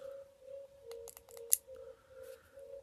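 Quick, quiet clicks on the button of an iStick 50 watt vape mod come in a fast run of about five presses over a steady faint electronic tone.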